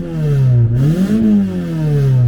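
A Mazda 323 F engine revs up and eases back, its pitch rising and falling in one close, loud sweep with no talking.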